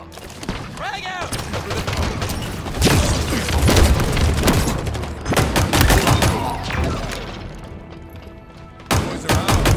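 Gunfire and explosions from the video game Halo Infinite: dense bursts of rapid shots and heavy booms crowd together, loud and close, with brief lulls before a final blast, as voices call out over the fighting.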